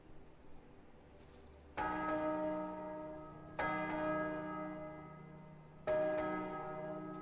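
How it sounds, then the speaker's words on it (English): Church bell in a video game tolls three times, each deep ringing strike spaced about two seconds apart and left to fade, loud and alone over a faint ambient backdrop. "For whom the bell tolls."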